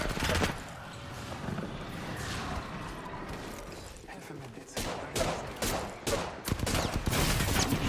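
Rapid bursts of gunfire crackle in an Apex Legends match, loud and close, with dense volleys near the start and again toward the end as a player talks over them.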